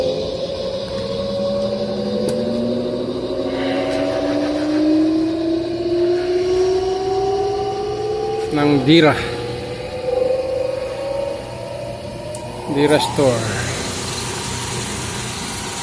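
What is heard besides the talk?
machine running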